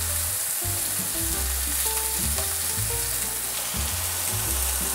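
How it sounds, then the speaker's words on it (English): Shiitake mushrooms and onions sizzle and fry in vegetable oil in a pan, a close, steady crackle broken by scraping stirs, with low music playing underneath. "We'll just stick those mushrooms and what are these? Onions? Into the pan. Get them sizzling and doing their thing."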